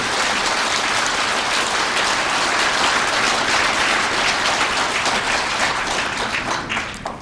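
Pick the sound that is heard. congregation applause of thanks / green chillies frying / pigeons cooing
congregation applause of thanks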